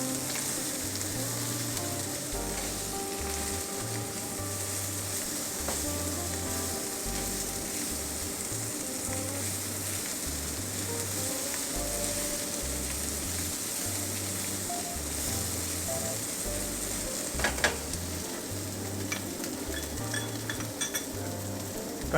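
Rice cake and chili are stir-fried at a Penang street-food stall, with a continuous loud sizzle under rhythmic metal spatula scraping and a pulsing low hum through the whole stretch.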